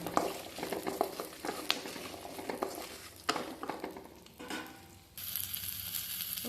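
Dried red chillies and a sprig of curry leaves sautéing in hot oil, crackling and sizzling steadily with repeated spatula scrapes and taps, close by, fading into a brighter hiss near the end.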